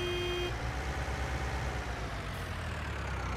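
A tractor horn in Farming Simulator 19 gives a short, steady honk at the start, then the low rumble of the idling engine continues alone.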